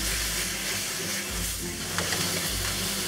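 Beef chow fun with dark soy sauce stir-fries in a hot pan, a loud, close, continuous sizzle with the scrape and toss of stirring.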